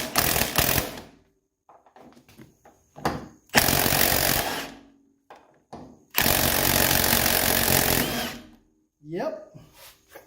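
A small impact wrench spins a suspension nut off a 1984 Mercedes 300SD in several loud, close bursts, separated by short pauses, with people talking in between.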